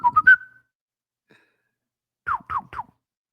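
A person whistles an imitation of the Nintendo one-up mushroom collect sound: a quick rising run of three notes, a pause, then three short sliding whistled notes.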